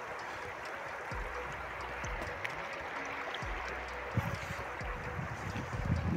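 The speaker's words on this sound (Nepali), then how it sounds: "खोला चाहिँ यस्तो बवाल छ नि" A jungle river flows in a steady, quiet wash of rushing water, with faint wind noise mixed in and no clear breaks.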